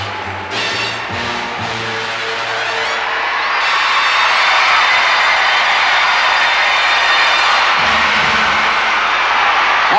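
A packed arena crowd at the 1986 World Figure Skating Championships men's free skate roars and cheers in a continuous wash of sound that swells louder after the first few seconds and holds steady.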